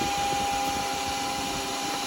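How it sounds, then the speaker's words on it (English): Sandpaper worked against a spinning wooden yoyo on a woodturning lathe, a steady continuous whirring hiss with motor hum underneath, close and even throughout, no dust extractor running. "I'm going to do a bit of sanding on that."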